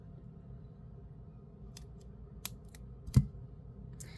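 Scissors or cutters snip beading wire for a gold necklace, giving a few sharp, close clicks in a quiet room with one louder snip near the end.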